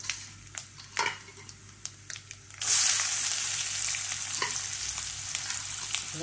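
Spices and onion fry in hot oil, starting with a few light clinks and taps before a loud, sustained sizzle bursts up as the onion goes in, then holds steady to the end.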